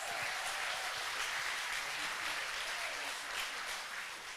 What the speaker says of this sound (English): let's hear one more round of applause for those amazing puppy raisers